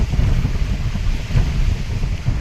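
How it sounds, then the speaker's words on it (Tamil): Strong wind buffets the microphone on the Parvathamalai hilltop, a steady loud rumbling roar with gusty fluctuations and no voices. "அவ்வளோ காற்று."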